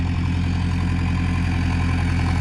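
A tractor engine runs while pulling a laser land leveller, producing a steady, loud, low rumbling drone that holds constant without any talking.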